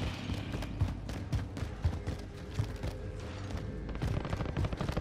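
Rapid bursts of video game gunfire crack in quick succession over a dense low rumble, fairly loud and continuous, with no talking.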